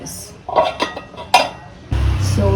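Metal pot clatter in a home kitchen: several sharp clinks and knocks of a lid being set onto a cooking pot of vegetable fish curry, followed by a steady low simmering hiss.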